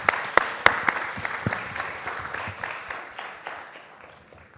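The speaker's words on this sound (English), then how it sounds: "Big round of applause for the esteemed panel." An audience applauds a panel of speakers on the main stage of a D2C and retail business summit; dense clapping with a few sharp claps up front tapers off steadily over several seconds.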